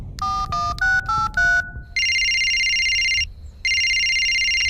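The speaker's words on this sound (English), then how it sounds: "Can someone answer their phone?" A cartoon telephone rings in a kingdom scene, opening with a quick run of stepped electronic tones and then two long, loud, buzzing rings separated by a short gap.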